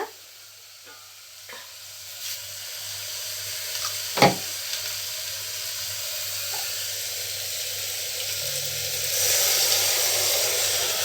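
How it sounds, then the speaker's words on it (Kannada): Water poured into field bean lentils frying with chili powder sets off a steady sizzling hiss while the mix is stirred, with occasional clinks and one sharp knock, and the hiss swells louder near the end. "ನೀರು ಹಾಕ್ಕೊಂಡು ಸ್ವಲ್ಪ ಈ ಥರ ಮಿಕ್ಸ್ ಮಾಡ್ಕೋಬೇಕು ನೀಟಾಗಿ."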